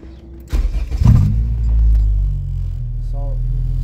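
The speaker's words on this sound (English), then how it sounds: "and I'll show you guys how the car idles." A Honda Civic EK engine cranks and catches, then settles into a smooth, steady, low idle with the air conditioning running. The sound is loud and close, with a short voice sound near the end.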